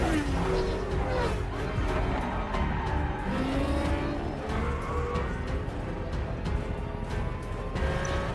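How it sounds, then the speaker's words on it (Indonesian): Supercars racing in a film chase, a continuous roar of engines with rising and falling pitch sweeps as cars pass, tire squeals and dense mechanical noise throughout. "Toby pun langsung memimpin balapan dan si Dino di posisi ketiga dihalangi oleh pengendara mobil McLaren."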